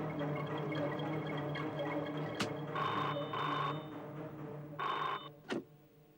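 A telephone rings in short bursts of bright electronic trilling, twice over a steady low hum, with a sharp click in between and another near the end.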